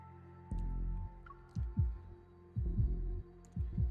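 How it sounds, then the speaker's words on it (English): A strong, deep heartbeat effect in a dating-sim video game, heavy low thumps arriving in pairs at a slow, regular pace, close and loud over a faint humming background. "Suddenly, I hear a strong heartbeat"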